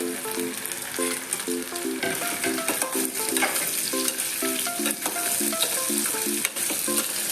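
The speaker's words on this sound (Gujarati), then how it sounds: "હવે આપણે આમાં જે ગાજરના ટુકડા કર્યા હતા એ અંદર ઉમેરશું અને એને સાતળી લઈશું" Carrot pieces sauté in ghee for gajar halwa, sizzling steadily in the pan while a spoon stirs and scrapes. A bright melodic tune plays throughout.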